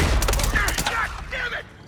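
Rapid gunshots ring out in The Last of Us video game, a quick volley of sharp cracks in close succession that fades toward the end.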